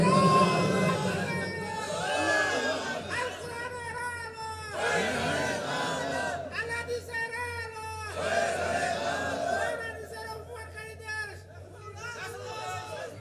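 A large crowd at an outdoor Islamic sermon gathering in Nilphamari roars out loud takbir chants in repeated surging waves of massed voices, with babble between the shouts.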